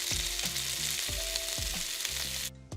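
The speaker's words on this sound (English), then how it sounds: "Saute some more of our vegetables." Vegetables for chicken lo mein sizzle loudly in a hot wok at home, with rhythmic scraping stirs every half second or so over the constant frying hiss, cutting off abruptly near the end.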